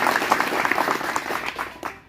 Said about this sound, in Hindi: इनके लिए तालियां आप बजाओ